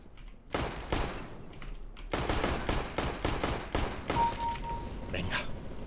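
Rapid gunfire in Counter-Strike: Global Offensive, bursts of close, sharp automatic shots in quick succession, nearly continuous, with brief gaps between volleys.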